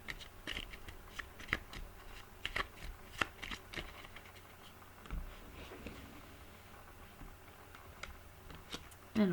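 Tarot cards being shuffled before a five-card spread, a run of soft papery riffles and light taps spread across the clip, close and fairly quiet, with no voice over them.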